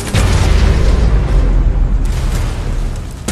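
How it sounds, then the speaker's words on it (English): A nuclear missile launches and detonates in a video game, a loud, sustained low rumbling roar that fills the whole moment without letup. "Nuclear missile launched."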